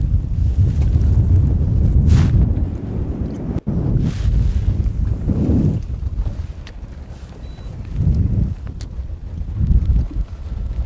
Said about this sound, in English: it is like super windy out today.